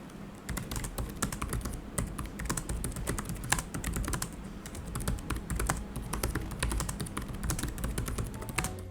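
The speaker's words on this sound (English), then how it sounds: "Keyboard is, I have to say, very nice to type on." Fast typing on a Lenovo ThinkPad T490s laptop keyboard, a quiet, close run of light, rapid key clicks with brief pauses and no talking.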